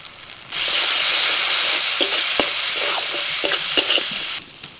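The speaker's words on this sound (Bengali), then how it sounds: "কিছুক্ষণ ভেজে নেব আদা রসুনের কাঁচা গন্ধটা চলে যাওয়া পর্যন্ত" Ginger, garlic and ground spices like turmeric, Kashmiri chilli, garam masala and cumin fry in hot oil, a steady loud sizzle with repeated scraping stirs of a spoon in the pan, close up.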